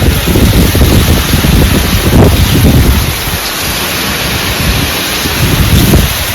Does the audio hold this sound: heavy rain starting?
yes